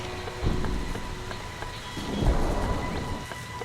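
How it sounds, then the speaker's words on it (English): Steady rain pours in the Splinter Cell: Pandora Tomorrow video game, with low rolling thunder rumbles beneath the constant hiss and occasional heavier drops. "What are you doing out in the rain?"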